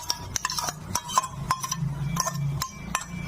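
Spices being stirred and sautéed in a pan with a chicken masala mix while cooking a duck egg curry with potato and pointed gourd: irregular metallic scrapes and clinks of a spoon against the pan over a soft sizzle, close and fairly loud.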